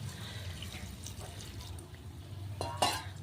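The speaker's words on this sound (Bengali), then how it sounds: "এবার দিয়ে দেবো একটু জল" Water is poured into a small-fish curry with onion leaves, a soft splashing trickle over a low cooking hum, with a brief brighter splash near the end.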